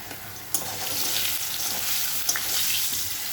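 Steady, close sizzling of potatoes frying in hot oil with salt and turmeric, with a couple of sharp clinks from stirring.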